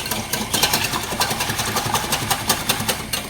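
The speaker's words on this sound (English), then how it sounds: "I'm going to start whisking up my cream." An electric whisk whips cream for a Swiss roll in a home kitchen, giving a steady, fairly loud buzzing whirr with a fast rattling pulse that runs throughout.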